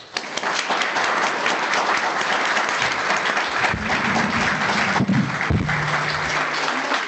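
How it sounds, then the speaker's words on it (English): An audience at a high tea event breaks into a round of applause, steady close clapping that carries on for several seconds with a few sharper individual claps standing out. "can they have a big round of applause?"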